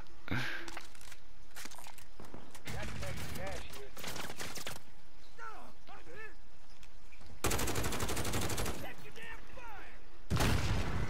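Bursts of automatic and single gunfire from a video game shootout, loud and repeated in clusters with short gaps, with game voice effects or chatter mixed in.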